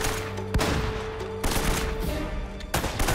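Shotgun blasts in the video game Uncharted: Drake's Fortune, several loud booming shots at irregular intervals over continuous in-game combat noise and music.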